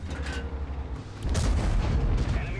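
Tank cannon fire in World of Tanks, with the FV215b firing on a Tiger in a city map, comes as heavy booming blasts and mechanical clatter, followed by a loud sustained rumble.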